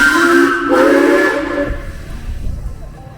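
Cockle Train heritage steam train departing on the Victor Harbor to Goolwa line, a loud steam whistle sounding for about a second and a half, then fading into hissing steam and low rumbling noise.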